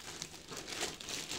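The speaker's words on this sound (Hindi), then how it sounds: "इसके पॉलीथीन कवर लगा हुआ है, इसे भी अनरैप कर देते हैं।" Polythene plastic cover being unwrapped from a slim USHA Quartz room heater, model QH 3002, in ivory, giving continuous close crinkling and rustling with a few sharper crackles throughout.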